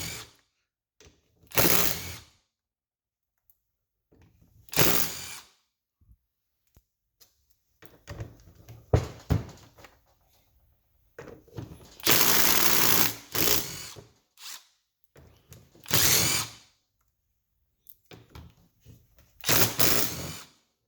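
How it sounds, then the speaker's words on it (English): A ratchet loosens the 12mm cover bolts on the rear differential of a Yamaha Big Bear ATV in repeated short clicking bursts, with quiet pauses between bolts and no talk. "the first step is you want to take off the cover for it, which is 8 12mm bolts on this model"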